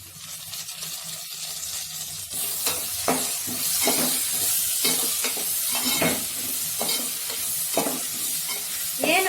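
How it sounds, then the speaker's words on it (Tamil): Onions and curry leaves fry in a hot pan, a steady sizzle broken by repeated scraping stirs of a spoon against the metal, close and fairly loud with no talk. "வெங்காயம் வதங்கிடுச்சு நல்லா. கருவேப்பிலை சேர்த்துக்கலாம்."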